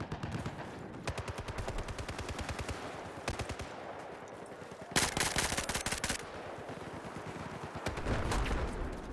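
An AN-94 assault rifle fires in a Battlefield multiplayer match, with repeated rapid bursts and longer sustained automatic volleys, loud and close, with brief pauses between strings and no talking.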